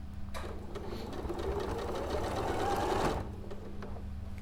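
A sewing machine stitches quilt fabric in a steady, fast mechanical whir that swells slightly midway, then stops abruptly, leaving a low hum.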